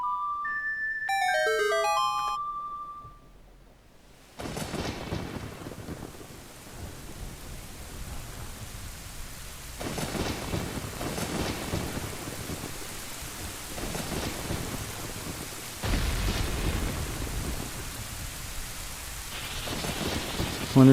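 A short ocarina-like melody plays first in the video game Zelda Ocarina of Time, then a thunderstorm sets in with steady rain hiss and several rolling thunder rumbles, one deep and loud near the end.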